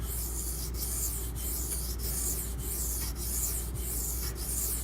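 Blade stroked back and forth on a very coarse, hard, dense sharpening stone, a close, steady gritty rasp with evenly spaced strokes repeating about every half second throughout.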